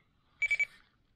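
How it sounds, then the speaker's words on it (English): A quick burst of three short, high electronic low-battery beeps from a Radtel two-way radio, evenly spaced, close and clear against near silence. "the Radtel is beeping at me,"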